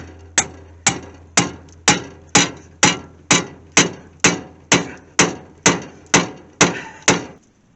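A small hammer strikes metal on a classic Mopar Charger in a junkyard, a steady series of about fifteen sharp, ringing blows, evenly spaced and close by.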